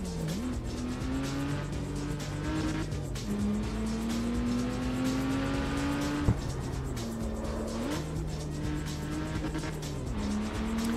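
A Porsche drives in the CarX Street racing game, its engine droning steadily with pitch climbing and dropping through repeated gear shifts, plus a faint tire squeal. No one speaks.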